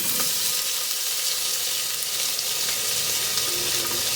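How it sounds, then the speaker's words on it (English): Chopped white onion, about two cups, sizzles loudly in warm oil in a pot as a steady bright hiss, with faint stirring beneath it and no voices. "We're going to add our chopped onion. This is a chopped white onion."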